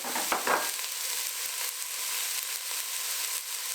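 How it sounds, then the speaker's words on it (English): Carrots and celery sautéing in a soup pot, a bright continuous sizzle with a couple of stirring clatters near the start, close and steady. "we're going to let all of that brown and saute for a couple of minutes"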